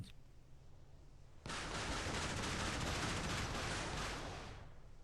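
Warship cannons in the Modern Warships mobile game fire in a sudden dense barrage that holds loud and steady for several seconds, then trails off slightly.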